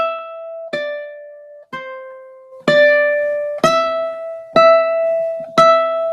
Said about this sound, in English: That's a very dramatic version of Mary Had a Little Lamb.